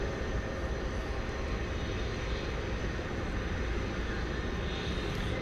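McDonnell Douglas MD-11 tri-jet airliner at DFW Airport at night, a continuous broad jet roar that holds steady at moderate distance, faint and even with no speech.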